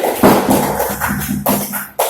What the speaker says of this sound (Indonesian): tepuk tangan dulu untuk kelompok kelinci